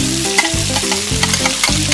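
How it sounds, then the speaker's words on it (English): Ginger, garlic and tomatoes sizzle loudly in melted butter in a hot pan while a utensil stirs them, with steady frying hiss and rhythmic scraping strokes close by. "add ginger, garlic, and tomatoes and stir well"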